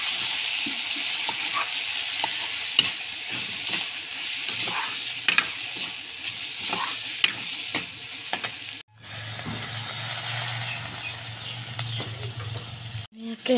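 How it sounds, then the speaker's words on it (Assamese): Rice and lentils frying in a hot pan, with a steady close sizzle and hiss broken by scraping stirs throughout, the frying briefly cut off near the end and quickly resuming. "চাউল দালিখিনি ভাজি লৈ আছোঁ"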